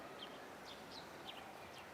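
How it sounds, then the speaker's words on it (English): Several short, high chirps from small birds, spaced irregularly over a steady background hiss, sounding fairly close. "Can you hear the birds?"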